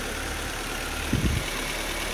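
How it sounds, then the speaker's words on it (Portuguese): A rebuilt Ford Focus engine idles quietly and evenly on a workshop stand, with a steady low mechanical drone and one brief soft knock partway through. "Mas tá aí, ó, motor funcionou caladinho"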